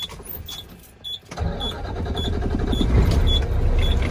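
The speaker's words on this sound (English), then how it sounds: "Now we're going to start the truck back up to build the pressure back to 120." A semi truck's engine starts during a CDL Class A pre-trip inspection, cranking briefly after a quiet gap and then settling into a steady, loud, close idle, with a faint repeating beep sounding over the running engine.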